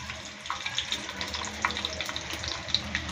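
Mustard seeds fry in hot oil in a home kitchen, a faint crackling sizzle with scattered small pops throughout.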